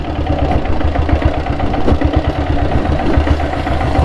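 A vehicle engine idles in neutral with a steady, close rumble and a fast rhythmic clatter that stays even throughout, with no voices.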